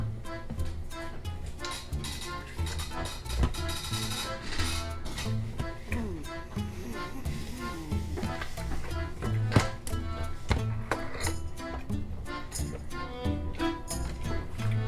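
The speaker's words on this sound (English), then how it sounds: "Now we're going to stir." Seafood pasta being stirred in an Instant Pot, with a busy run of scraping, tapping and clinking from a utensil against the metal inner pot, continuous and close for about fifteen seconds.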